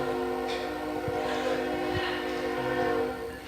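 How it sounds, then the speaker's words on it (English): A freight train rolls through a town with a steady, loud rumble and sustained horn tones sounding over the passing cars. "Here comes another train."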